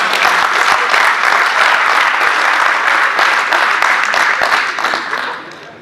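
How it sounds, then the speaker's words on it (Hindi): Dense, loud audience clapping carries on steadily at a stand-up comedy show in a hotel, tapering off at the very end. "जोरदार तालियां।"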